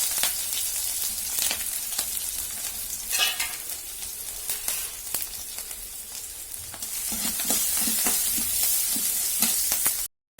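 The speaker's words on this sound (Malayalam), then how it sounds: "നമുക്ക് അരിഞ്ഞു വെച്ച ഇഞ്ചി, വെളുത്തുള്ളി, പച്ചമുളക് ഇതെല്ലാം കൂടെ ഇതിലേക്ക് ഇട്ട് കൊടുക്കാം. ഒന്ന് വഴറ്റിയെടുക്കാം" Ginger, garlic and green chilli sautéing in hot oil for pineapple pickle, a steady close sizzle with repeated scraping stirs that grows louder and denser toward the end, no voices.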